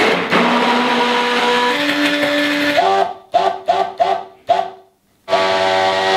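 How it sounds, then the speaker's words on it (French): An immersion blender whirs through a pot of vegetable soup, its loud motor pitch rising as it works, then stopping and restarting in several short bursts before running steadily again. "je vais la mixer au mixeur plongeant"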